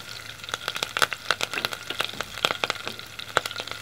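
Curry leaves and green chili frying in hot oil for a Tamil beans and egg poriyal, giving a steady close crackle of sharp pops and spits over a soft sizzle, with no talking.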